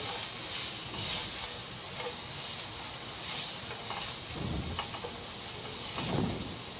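Onion frying in a pan as the base for a sauce, a steady close sizzle and hiss running throughout with a few soft stirring scrapes and no talking.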